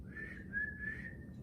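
A person whistles a sustained high note, imitating the sharp warning whistle of a groundhog; the tone is steady with slight wavering, moderately faint over a low background rumble, and no speech.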